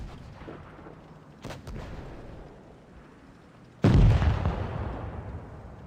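Tank cannon fire in World of Tanks Blitz during a championship match: two sharp blasts, then a loud, heavy boom with a long rumbling decay, close and dominant over low background noise.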